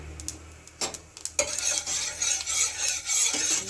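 Panch phoron spices dropped into hot oil and stirred, a bright crackling sizzle swelling after a few scraping stirs, close and fairly loud, with no voices.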